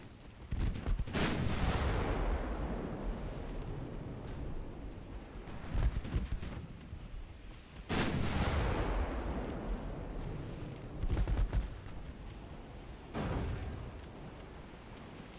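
Battleship guns in a video game boom in heavy, widely spaced salvos, each a sharp blast trailing into a long rumbling decay, with several thunderous volleys across the stretch.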